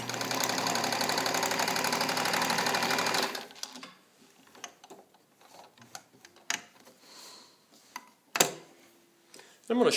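A restored all-metal Necchi BU Nova sewing machine runs in a fast, steady stitching rattle for about three seconds, then stops, leaving scattered clicks and handling taps nearby.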